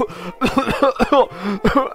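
A voice imitates a drenched character giving a few small, wet coughs, short throaty bursts spaced across two seconds.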